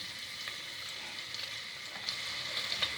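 A roughly chopped onion fries in a pan, giving a steady, close, even hiss with a few faint crackles rising through it, and no voices over it.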